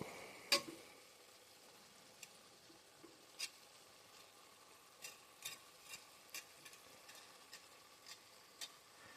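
Meat cooks in a pot for stew with a little water, giving a faint, quiet sizzle under a scattering of soft clicks and taps from stirring.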